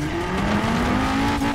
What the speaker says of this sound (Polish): Ależ to Audi ładnie brzmi, co?